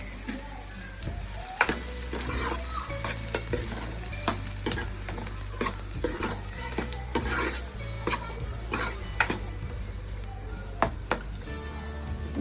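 Onions frying in hot oil for a country chicken curry, stirred again and again with repeated sharp scraping strokes over a steady, close sizzle, with no talking.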